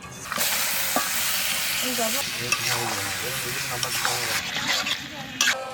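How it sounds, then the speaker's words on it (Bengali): Chicken meat goes into a pan of fried spice masala, setting off a loud, steady sizzle with stirring and scraping throughout, and a voice speaks over the cooking. "মশলা কষানো হয়ে গেছে, এবার মাংস দিয়ে দেবো।"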